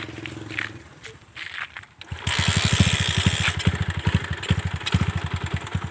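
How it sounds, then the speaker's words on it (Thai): A Honda Sonic motorcycle engine starts with a low sputter, then revs and idles loudly up close, with rhythmic throbbing firing pulses and faint voices nearby. "ฟังเสียงเครื่องฟังเสียงเครื่องให้มันดี"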